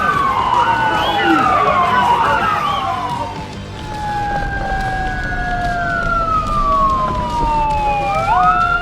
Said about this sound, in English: Didn't he hear the fire sirens?